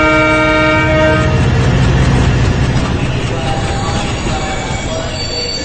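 A train at Kalyan station sounds a loud, sustained horn blast over heavy rumbling and clanking of carriages, close and continuous.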